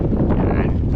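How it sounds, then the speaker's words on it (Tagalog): Strong wind buffets the microphone in a brief, continuous roar of low rumbling noise. "Medyo malakas na yung hangin mga idol"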